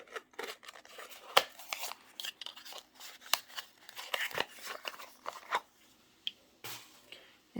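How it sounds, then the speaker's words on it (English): Scissors cut open a nail polish subscription box package with faint, irregular snips and crisp crunches up close, scattered unevenly across a quiet room. "Cut that open real quick."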